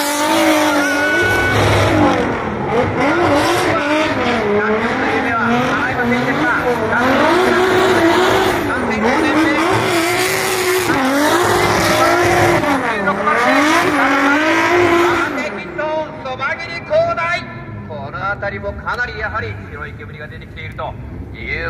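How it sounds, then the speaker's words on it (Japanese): A red Infiniti drift car with a VR engine revs hard and squeals its tires on a narrow course at the D1GP Kick Off Drift, Tokyo Auto Salon 2024. The loud, wavering engine howl continues under a commentator's voice, then drops away near the end. "エンジンが 本当にかなりパワーを出せながらこの狭いコース"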